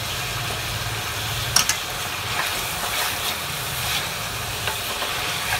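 Steady sizzling of coarsely ground ginger, garlic and chili paste frying in a hot pan for chicken stew, a constant hiss with an occasional scrape of stirring.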